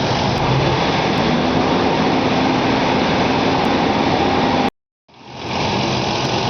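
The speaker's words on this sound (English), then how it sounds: "we're going to race the engine to about 1500 RPMs for about 15 to 20 seconds" A car engine runs at a steady raised speed of about 1500 RPM during an alternator charging test, a constant loud drone that cuts out abruptly near the end, then returns.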